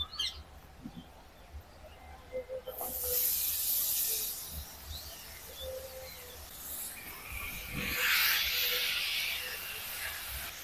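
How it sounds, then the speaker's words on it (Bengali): Grated pointed gourd fries in a pan with onion, giving a soft background crackle that swells into two louder bursts of hissing sizzle, one early and one near the end. "পটলটাকে এইভাবে কিছুক্ষণ ভাজা ভাজা করবো"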